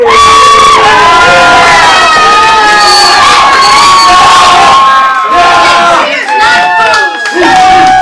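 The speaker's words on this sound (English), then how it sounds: "Now give JP a big hand" A classroom of students cheering, whooping and shouting for a classmate, loud and close, a continuous mass of excited young voices that thins out into separate yells near the end.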